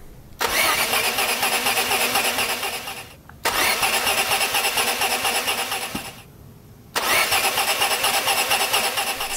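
A Maserati Biturbo that sat in a barn cranks and fires three times in a row, each start a loud, close, rough engine roar lasting a few seconds before cutting out.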